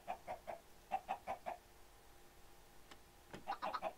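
Video game chickens from a modded Minecraft world cluck in quick bursts of three or four, close and clear, with a brief pause before another rapid cluster.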